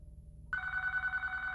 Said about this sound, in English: the phone once again started ringing